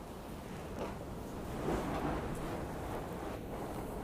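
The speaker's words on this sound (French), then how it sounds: "Est-ce que tu entends le vent?" Wind blows steadily around an abandoned fairy-tale castle, a broad airy rush that swells slightly toward the middle and carries faint scattered gusts, with no voices.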